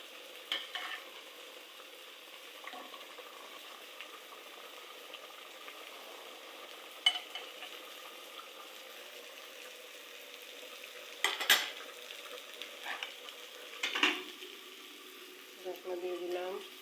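Food frying gently over medium-low heat while being stirred, a faint steady sizzle with occasional soft scrapes and clinks of a spoon against the pan.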